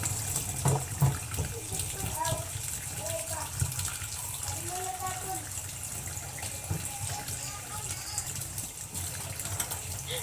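Water runs steadily from a sink faucet while dishes are washed, a continuous close splashing rush with a few clinks, and a person talks over it.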